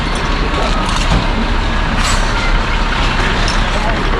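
A truck rumbles close by with a dense, loud engine roar and a hiss of air brakes, while people talk over it.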